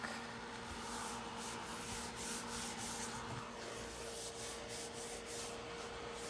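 Hard rubbing of a tool across cardstock, a continuous scratchy scraping with faint repeated strokes, close but quiet, without speech.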